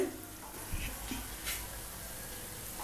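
Ingredients for mint rice are lightly sautéed and stirred in a pan, giving a soft, steady sizzle with a few faint scraping stirs, fairly quiet and without talk.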